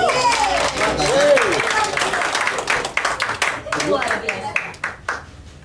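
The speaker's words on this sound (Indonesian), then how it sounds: "Kita tepuk tangan" A crowd claps in a brief burst of applause, the clapping thinning into scattered claps as a voice speaks over it.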